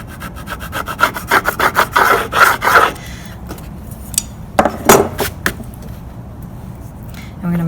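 Wood being cut away, about an eighth of an inch, while shaping a steam-bent iPad stand: a quick run of loud, close rasping saw or file strokes, then a pause and a few more scraping strokes.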